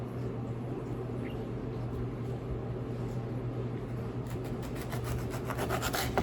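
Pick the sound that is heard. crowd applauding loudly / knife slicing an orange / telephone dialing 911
knife slicing an orange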